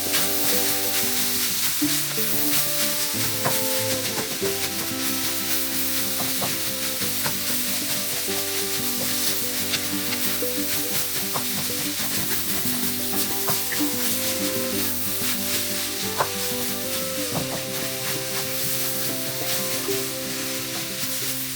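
Garlic and pepper fry in butter, a steady dense sizzle that stays loud and close throughout, with faint stirring taps and background music underneath.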